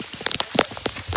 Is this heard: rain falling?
yes